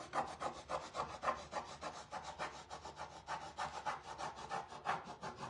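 A Cricut embossing tool rubs back and forth over a wooden truck-shaped door hanger, producing repeated scratchy rasping strokes in a steady rhythm, close and moderately loud, with no talking.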